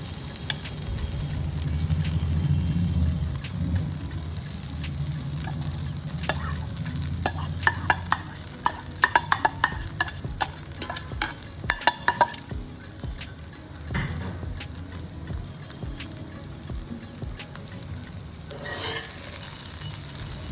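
Soaked poha (flattened rice) is stirred in a sizzling pan for aval upma, with a frying hiss and a cluster of sharp spatula scrapes and clinks in the middle, close and without talk.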